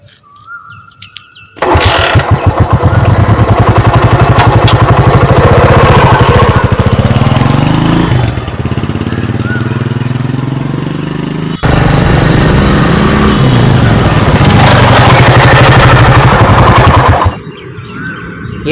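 A vehicle engine catches after a brief crank and runs loud and rough with a rapid chugging beat, revving and dipping, cutting out briefly before restarting and running on, then stopping.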